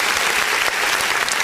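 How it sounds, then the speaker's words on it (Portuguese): A church congregation applauds during an online worship service, a dense, steady wash of clapping filling the whole short span at even loudness. "Vamos dar uma salva de palmas bem forte para o nosso Deus."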